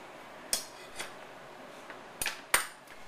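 A few sharp clinks and knocks sound on a cutting board as garlic is pressed, with isolated metallic taps spaced out and one quick double knock near the end.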